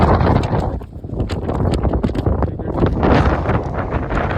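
Strong gusts buffet the open air at Lamayuru monastery in Ladakh, a loud, rough, continuous roar of wind battering the microphone with no speech.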